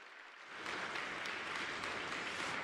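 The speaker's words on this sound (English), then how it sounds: "let's give them a warm round of applause" A church congregation breaks into applause after a brief quiet moment, the clapping swelling quickly and then holding as a steady, moderately distant wash of hands.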